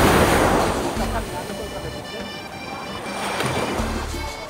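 Ocean surf at a Costa Rica beach with cold water, loose pale sand and clear blue water: broad washing noise that crashes loud at the start, eases, then swells again near the end, with some wind rumble.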